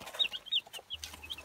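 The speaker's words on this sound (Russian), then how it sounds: "Ну и вот мои курочки-несушки." Laying hens clucking in short, repeated calls, fairly close, with a steady low hum setting in partway through.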